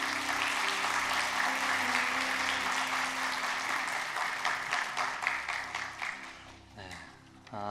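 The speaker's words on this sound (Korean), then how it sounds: "큰 사랑과 환영의 박수로 목사님 맞이하도록" A church congregation at a Sunday worship service applauds to welcome the pastor, a dense, continuous wash of many hands that gradually thins and fades before a voice begins speaking at the end.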